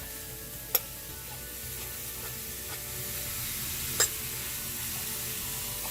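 Italian sausage sizzles softly and steadily in a pan while a fork breaks it up, with a couple of sharp metallic clicks against the pan.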